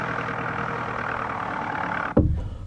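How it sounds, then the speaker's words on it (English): A tractor pulling a plough drones steadily at mid pitch, moderately loud, then gives a short heavier thump near the end before settling back. "It's a tractor pulling a plough."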